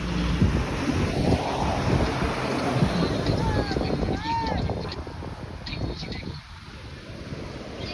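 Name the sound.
sea waves on Cox's Bazar beach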